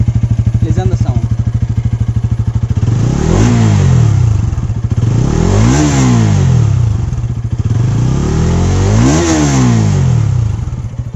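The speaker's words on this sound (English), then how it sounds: "let us start the vlog by hearing the exhaust note of it" A Bajaj Pulsar NS200 BS6 motorcycle with an underbelly exhaust idles loud and close, then three sharp throttle blips rise and fall in pitch, each dropping back to a thumping idle.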